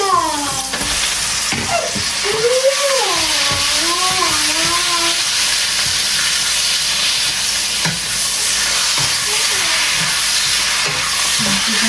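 Chicken added to a hot pan sizzles loudly and steadily at close range with a constant frying hiss and occasional stirring scrapes, while a voice speaks briefly early on.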